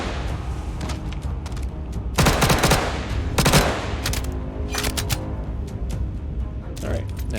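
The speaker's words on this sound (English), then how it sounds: "using an LMG or an SMG for an LMG" Light machine gun fire in a video game, with short loud bursts of automatic shots at close range over a steady busy game backdrop, alongside other scattered gunfire.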